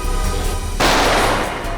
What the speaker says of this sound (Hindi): सर हम लोग गोली की आवाज़ सुनकर बहुत डर गए थे